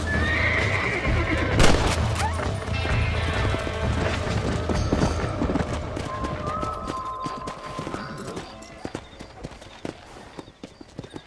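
Horse in Red Dead Redemption galloping with quick clip-clop hooves and loud, close whinnies over a busy game soundscape, the hoofbeats thinning toward the end.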